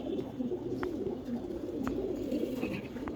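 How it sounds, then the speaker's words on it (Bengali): Tournament racing pigeons in a loft coo together in a steady, low murmuring chorus that fills the whole stretch without pause. No one speaks over it. "এই যে কবুতর গুলো দেখতেছেন দেখেন কত ছটফটে কবুতর এগুলো"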